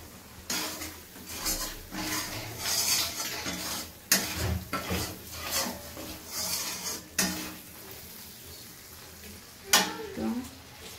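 Water and a little sugar go into a hot, sizzling pan for doi katla, a Bengali fish curry. A close sizzle rises and falls under clinks and scrapes of a spoon stirring against the pan.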